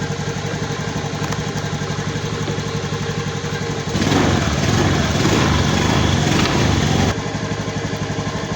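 A Honda Beat motorcycle engine with a battery that keeps running low idles with a steady close putter, revs up briefly and more roughly for about three seconds, then settles back to idle.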